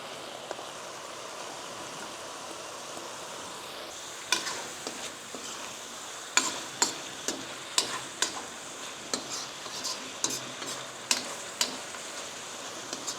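Vegetables with carrots sizzle steadily in a pan, and after a few seconds a utensil starts scraping and clinking in a loose, repeated stirring rhythm.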